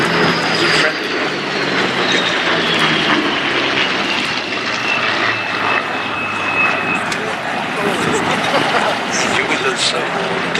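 Bristol Blenheim piston engines droning at an air show, a loud continuous roar with a slowly shifting pitch as the aircraft passes, while a commentator talks over it.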